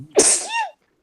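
A single sharp human sneeze, close and loud, with a quick intake then a burst that fades within about half a second.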